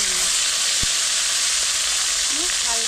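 Tilapia fish slides into hot oil where cumin has scorched, giving a steady loud broadband sizzle throughout with a brief thump near the start; a faint voice murmurs at the end.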